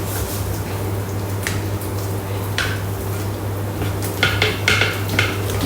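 Stirring a meat pie filling in a Thermomix bowl, giving soft scraping and light clinking taps against a steady low machine hum, with a few brighter knocks near the end.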